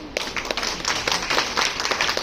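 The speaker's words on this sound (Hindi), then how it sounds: "अब बच्चों के लिए, टीचर्स के लिए और मैडम के लिए तालियां चाहिए।" A school audience at a Grandparents Day event claps for the children and teachers, a brief burst of scattered, moderately loud applause.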